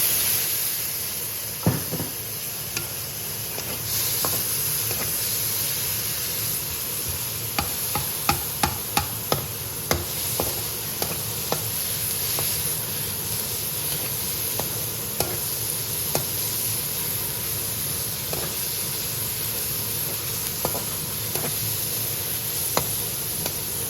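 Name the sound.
stirring onion, garlic and ginger paste frying in pan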